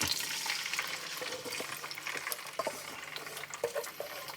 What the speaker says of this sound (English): Alright, sizzling away nicely.